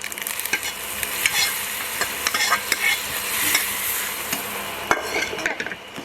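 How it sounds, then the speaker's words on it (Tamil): Sizzling tempering of vadagam and dried chillies poured into a stem amaranth leaf kuzhambu gravy, with a constant crackling hiss and repeated spoon scrapes against the pot. "தாளிப்பு ரெடிங்க குழம்புல ஊற்றிடலாமா"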